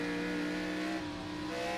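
A race car accelerating at Sonoma Raceway during a BMW M2 X-Series race, a loud, steady engine drone with tire noise, held throughout.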